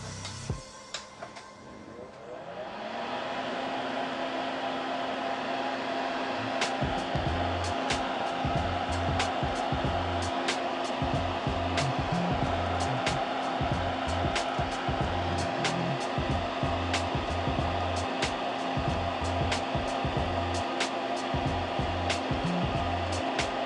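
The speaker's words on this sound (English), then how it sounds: "Let me turn on my fume extractor really quick." A small fume extractor for soldering starts up and runs with a steady whooshing fan drone, close by, while sharp regular ticks and clicks from a keyboard build tap over it.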